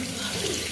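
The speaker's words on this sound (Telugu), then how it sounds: "ఫేస్ వాష్ చేసుకొని ముఖం నీట్గా కడుక్కొని" Tap water runs into a sink during face washing, a short, steady splashing stream, close by and moderately loud, with no talking.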